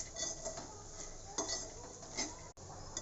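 Peeled snacks being stirred and fried in a pan, with repeated clinks and scrapes of a metal spoon against the pan over a faint background hiss, close and fairly quiet.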